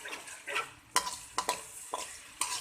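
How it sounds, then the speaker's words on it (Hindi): Tomatoes frying in a pan over medium heat, with soft sizzling and several sharp stirring clinks and scrapes of a utensil against the pan at irregular intervals, close and fairly quiet. "और इस टमाटर को हम भूनेंगे।"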